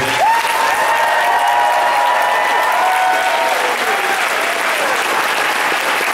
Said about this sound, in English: a massive thank you, round of applause for these wonderful people